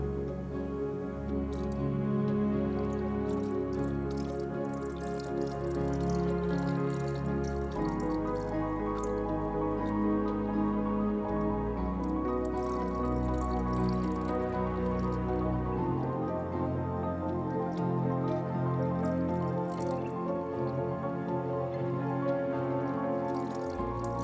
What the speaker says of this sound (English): it's time that we pour this in here and see what difference it